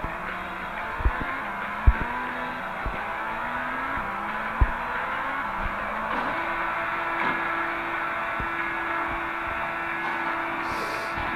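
Engine drone from an Extreme Car Driving Simulator game car, playing slowed down: a low steady tone that steps up in pitch in repeated gear-like ramps, with a few sharp clicks along the way.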